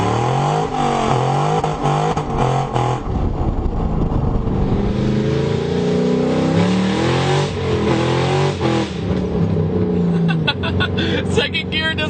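Silver Ford Mustang accelerating hard in first gear, its loud engine roar climbing steadily in pitch close by, with people talking over it inside the car.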